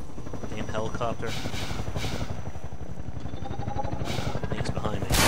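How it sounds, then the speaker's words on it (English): Helicopter in Half-Life 2 drones with a steady, loud rotor thump under continuous game sound and voices, a sharp burst near the end. "Helicopter."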